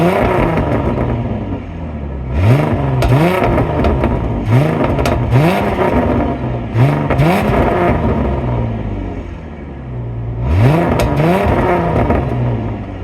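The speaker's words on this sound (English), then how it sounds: "let me give you guys a little exhaust clip." Exhaust of a 2006 Ford Mustang Premium (S197) revved hard several times, each sharp rising blip falling back to a loud, steady idle rumble, recorded up close with no talking.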